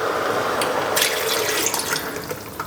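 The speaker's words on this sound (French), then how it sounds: "Et je vais rajouter un peu d'eau aussi." Water pours steadily from a can into a cooking pot of vegetarian chili with crushed tomatoes, a loud, continuous close splashing rush that trails off slightly toward the end, with no talking.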